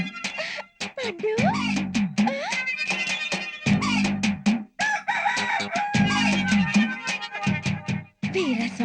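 A rooster crows loudly and repeatedly in a Telugu film comedy scene, with drawn-out warbling calls broken by short gaps, close up and dominant.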